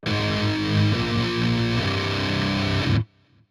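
A heavily distorted electric guitar plays the chugging breakdown ending of a metalcore song, dense low palm-muted chords with a few sharp changes, loud and close, then cut off abruptly into near silence.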